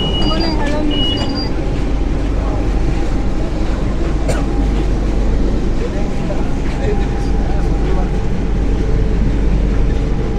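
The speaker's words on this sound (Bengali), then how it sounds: "মেট্রো ছেড়ে দিল" A crowded Kolkata metro train bound for Dum Dum pulls away, a steady rolling hum and rumble of the carriage with brief chime-like tones at the start, while people talk over the noise.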